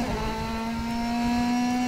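A DTM race car at Hockenheim in a racing video game accelerates hard, its engine holding a loud, steady rising whine with no break.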